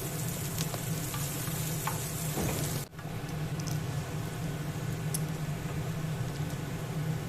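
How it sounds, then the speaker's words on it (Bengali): Chopped medium onion sizzles steadily in hot oil for a fish curry, a dense continuous frying hiss with a brief dip midway, close and alone without voices. "মিডিয়াম সাইজের একটা পেঁয়াজ নিয়েছিলাম কুচি করে, সেটা ভেজে নিচ্ছি।"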